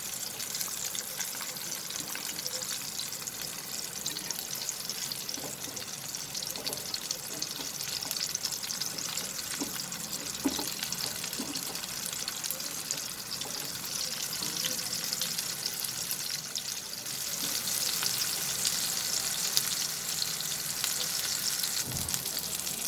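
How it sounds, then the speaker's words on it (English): Chicken keema kebabs fry in a shallow pan with a continuous bright sizzle and occasional spatters and scrapes. The sizzle swells louder toward the end, with no voices. "So here is our kebab fried properly on both the sides."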